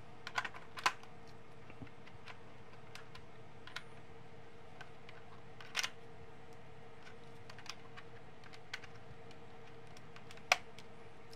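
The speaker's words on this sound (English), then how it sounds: "I'm going to use this mouse to click here and then type something from the keyboard" Faint, sparse keystrokes tap on a wireless keyboard paired with an ASUS ROG Ally handheld, with soft isolated clicks and a few sharper taps over a quiet background hum.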